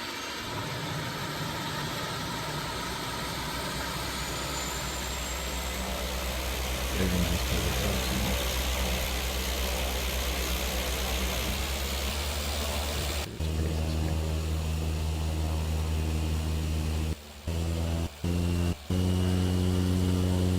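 Steady propeller engine drone of a warbird prop fighter in a flight simulator game, a continuous loud hum with tonal harmonics that shifts pitch partway through, with a few brief dropouts near the end.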